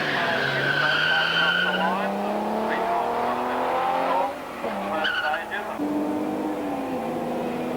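Jaguar E-Type and Austin-Healey race in a fifth-of-a-mile sprint at a rally, their engines rising through gears with tire squeal, loud and close, under a commentator's voice.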